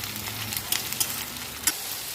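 Tomato and green chili fry with ginger garlic paste and onion in hot oil, making a continuous close hissing sizzle dotted with a few sharp spitting pops.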